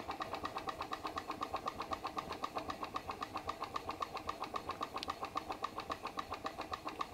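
A PMR Research glass Stirling engine runs slowly while driving a Baker fan, making a steady, even stream of soft rhythmic ticks at close range with no voices over it.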